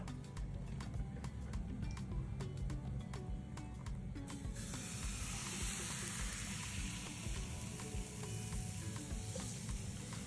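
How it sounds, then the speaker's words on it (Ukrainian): Steady sizzling of pumpkin pancake batter frying in oil in a hot pan, a continuous crackle with brief clicks, close and fairly loud, no voices. "ми тепер будемо смажити млинці"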